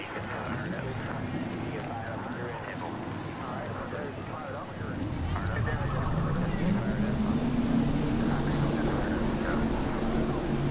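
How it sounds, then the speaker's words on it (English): NASCAR Racing 2003 simulation of 2001 Winston Cup stock cars at New Hampshire: engines fire up midway and settle into a loud rising drone, following a stretch of steady crowd or track ambience. "Drivers, start your engines."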